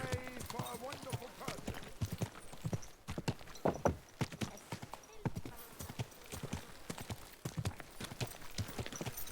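Rhythmic horse hooves clip-clopping at a slow walk in the video game Kingdom Come: Deliverance II, with a voice talking over them throughout.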